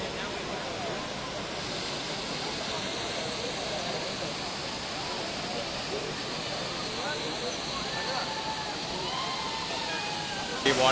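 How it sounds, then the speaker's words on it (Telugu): Soochipara waterfall in Wayanad, Kerala, pouring as a steady broadband rush of falling water, continuous and fairly distant, with faint voices in the background. "ఈ వాటర్ఫాల్ నేమ్ వచ్చేసి సూచిపార వాటర్ఫాల్, వయనాడ్లోనే ఉంటుంది"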